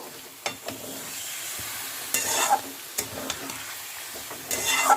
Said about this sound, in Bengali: টক দইটা দিয়েও আবারও খানিকক্ষণ কষে নেব